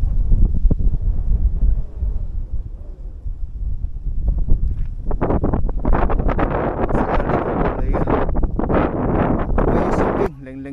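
Strong wind buffets the microphone on the summit of Violet Hill above Tai Tam Reservoir, Hong Kong, at 433 metres, roaring in loud gusts that grow heavier partway through, with a voice speaking under it.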